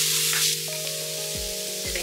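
Onions frying in hot oil with curry leaves for a savoury dumpling filling, a steady close sizzle with crackling hiss throughout, alongside a low humming tone.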